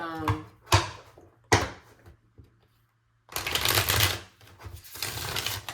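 Tarot cards are shuffled in short crisp riffling bursts, a few quick flutters followed by a longer, louder shuffle, close and with no talking.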